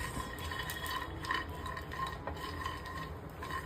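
Peanuts being sautéed in a pan, a close, continuous dry rattling and scraping of nuts and utensil against metal under a light background hum, with no talking.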